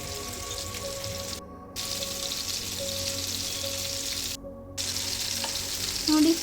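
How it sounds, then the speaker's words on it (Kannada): Marinated prawns shallow fry in hot oil in a pan, giving a steady, close crackling sizzle with brief gaps and a few louder pops, no voices. "ನೋಡಿ, ಹೀಗೆ 2 ಬದಿಯಲ್ಲಿ ಇದನ್ನು ಚೆಂದ ಫ್ರೈ ಮಾಡ್ಕೊಳ್ಬೇಕು."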